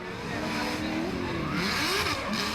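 A Nissan 350Z drift car at full throttle on a straightaway at the Asian Drifting GP in Jakarta, its engine note rising and falling loudly with a faint tire squeal and crowd noise behind it.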